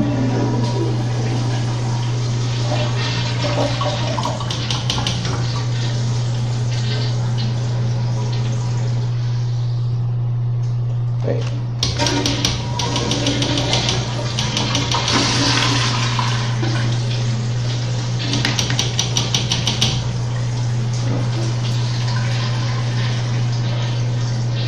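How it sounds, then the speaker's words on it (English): A 2013 Kohler Highline toilet flushes with a loud rushing swirl of water, a short gurgling pause, then a long refill hiss over a steady electrical hum, with no speech. "Cool flush. This toilet has a cool flush."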